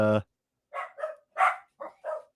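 Dogs bark nearby during a gun podcast recording, a single low bark followed by a rapid run of five sharper yips and barks at close range.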